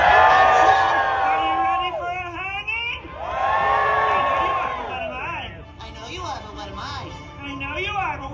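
Crowd of people screaming and shouting loudly in bursts at a haunted attraction show during Knott's Scary Farm, with overlapping cheers and whoops, a few separate swells of excited yelling and voices chattering between them.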